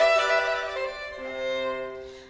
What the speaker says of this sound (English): we've got these special musical codes which we call cadences and sound like this